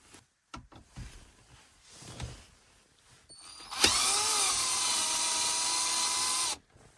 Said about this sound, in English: you should disassemble this stuff by unscrewing these bolts and going up